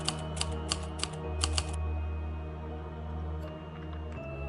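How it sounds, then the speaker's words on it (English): Typewriter keys clack in a quick burst of about six sharp strikes, then fade into a steady low hum with faint scattered ticks. "suddenly, you can actually hear noises of a typewriter"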